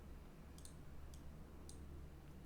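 Computer keyboard being typed on while working in Blender, a few sparse, crisp key clicks spaced apart, very quiet and close over a low steady hum, with no talking.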